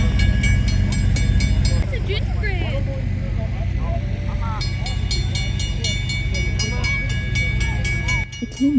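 A Christmas special passenger train in the USA rumbles along continuously with a low, steady rolling drone, while bright repeating chimes or music and occasional voices sound over it.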